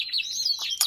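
Fife and Lizard canaries sing in a bird room, a brief bright run of high trills and chirps, close and fairly clear with no other sounds.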